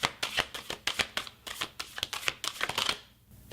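Crystal Mandala Oracle cards being shuffled in a rapid series of crisp riffling slaps and flicks, close and fairly loud, with no talking, ending in a brief quiet moment.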